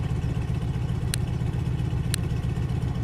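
An aircraft engine idles steadily in Microsoft Flight, a constant low droning hum at close range with two brief sharp clicks partway through, no talk.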